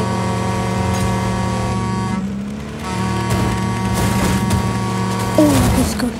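Truck horn in the video game Just Cause 4, a sustained steady blare that drones on for several seconds alongside mechanical game noise and a few sharp bangs.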